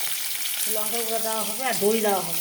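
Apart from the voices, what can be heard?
katla fish frying in a pan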